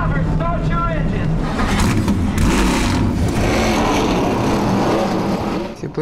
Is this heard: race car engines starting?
yes